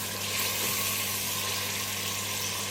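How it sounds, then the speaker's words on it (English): Steady, dense hiss of cold chopped tomatoes sizzling in a very hot pan, with a low hum underneath, continuous and fairly quiet. "it sizzles a lot because this is very hot and the chopped tomatoes are very cold"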